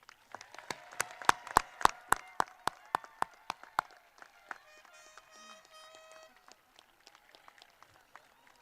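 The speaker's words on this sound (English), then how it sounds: "Let's give our graduates one more round of applause." Graduation audience applause, with sharp, distinct claps in a quick rhythm that build and then thin out into scattered claps, heard at moderate distance alongside faint voices and a brief sustained tone.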